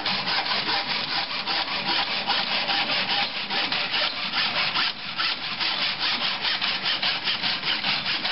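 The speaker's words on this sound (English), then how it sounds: "We're going to place it into the mitre saw with the T facing up. Clamp the work into place, like so, and then cut the next side." A mitre saw cuts through wood for a table top, producing a steady, loud rasping sound with a fast, even rhythm that runs close and continuous throughout.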